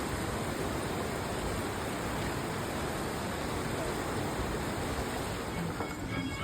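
The Banganga river at Katra rushes in a dense, unbroken roar of flowing water, loud and close throughout.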